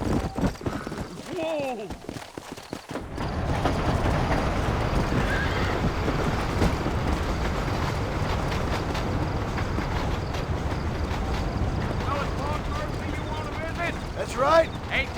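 Horseback riding in the Red Dead Redemption video game: steady clip-clop hoofbeats and a whinny as a horse sets off from town, with a voice speaking over the continuous hooves.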